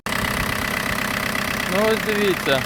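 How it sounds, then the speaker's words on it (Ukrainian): A car engine just started and idling cold under the hood after work on the alternator and compressor, a steady loud mechanical drone with a slight knock, close up, while someone speaks briefly over it. "я тільки запустив двигун, він не прогрівся нічого"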